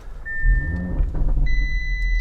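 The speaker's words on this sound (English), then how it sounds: "Push button start." A 2019 Audi RS3 with APR Stage 2 tuning is started by push button: a deep engine rumble builds and settles to a close, steady idle, with electronic chimes sounding over it.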